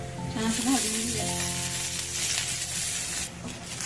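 Hyacinth bean pods sizzling steadily in a little oil in a pan, a close, continuous frying hiss with faint stirring.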